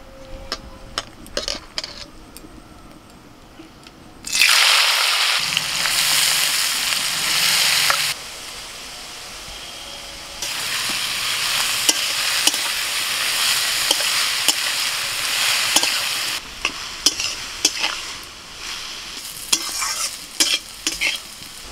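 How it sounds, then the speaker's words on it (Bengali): Hot oil sizzles in a pan while frying for a monsoon khichuri meal. Loud hissing bursts rise and fall, with scraping stirring and utensil clinks near the mic and no talking. "এবার হুঁপোটা ভেজে নেব"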